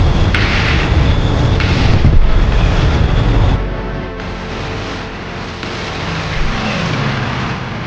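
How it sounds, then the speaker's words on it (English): F-16 jet and propeller aircraft engines in a video game roar continuously, with a heavy rumbling drone and occasional booms as planes rush past one another. "F-16s coming real close to these prop planes as they zip right through the swarm"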